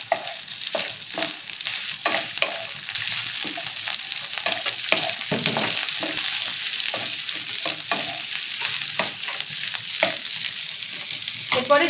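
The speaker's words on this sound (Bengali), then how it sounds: "এরপরে আমি এই ক্যাপসিকামটা এর মধ্যে দিয়ে দেবো।" Capsicum added to paneer frying in a pan, a continuous sizzle and crackle with repeated scraping stirs of a spatula, close and loud throughout, no talking.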